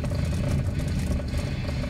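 A well-tuned car engine idles or runs steadily nearby, a constant low rumble with a faint rattle and no talking.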